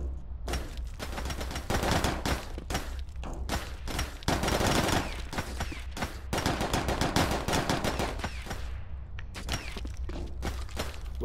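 Video game gunfire rattles in long automatic bursts and separate shots until the weapon runs dry, loud and close, with short gaps between volleys.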